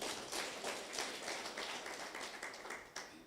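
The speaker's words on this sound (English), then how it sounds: "Can you clap for yourselves?" Conference audience at Kabianga clapping for themselves, a faint, steady patter of many hands heard from a distance in a large hall, with no speech over it.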